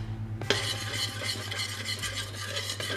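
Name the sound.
stirring flour into melted butter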